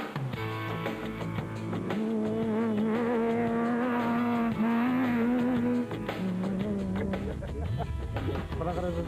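A rally car driven a lap of a specially laid out dirt course at Badfontein, its engine droning loud and steady with rising and falling pitch as it accelerates and shifts, close and continuous.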